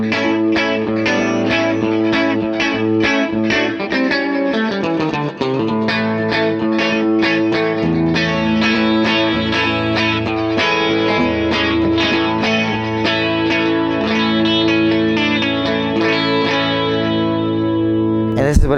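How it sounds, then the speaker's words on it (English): Gibson Les Paul Custom electric guitar played on the middle pickup setting with the bridge coil split and the neck humbucker full, a driven, effects-laden sound of strummed chords and rhythmic picked notes, loud and continuous. "this is the middle pickup, but it has the push-pull on for only the bridge, and we still have the full humbucker for the neck"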